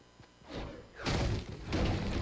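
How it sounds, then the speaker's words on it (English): Trees being smashed down in Fortnite, two or three heavy thudding crashes in quick succession, each with a crunching, splintering burst. "So, let me just destroy these trees real quick."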